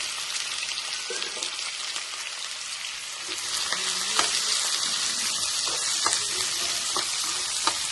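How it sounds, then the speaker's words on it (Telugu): Onion pieces and green chillies fry steadily in a pan, a continuous hiss of oil with scattered crackles and pops that grows a little denser and louder partway through, with no voices. "ఉల్లిపాయ ముక్కలు పచ్చిమిర్చి వేసేద్దాం ఇప్పుడు ఇది ఫ్రై చేద్దామంట"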